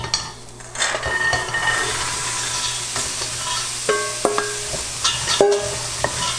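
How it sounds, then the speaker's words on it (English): Peas and carrots go into a pan of toasting aromatics, followed by steady sizzling and frying with repeated metallic scrapes and clinks of a utensil stirring against the pan. "Now I'm going to add in the peas and the carrots."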